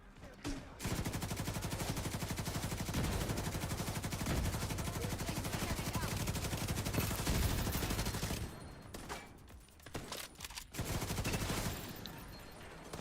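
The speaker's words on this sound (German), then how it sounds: "wir schießen da rum hier" Sustained automatic gunfire in The Division 2, dense rapid rattling bursts that run almost continuously for several seconds, then break into a few short, separate volleys near the end, loud and close.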